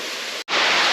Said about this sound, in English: let me show you this waterfall from right here